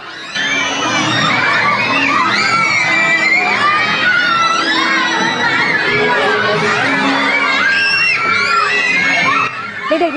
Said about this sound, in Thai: กรี๊ดกราดกันใหญ่ค่ะ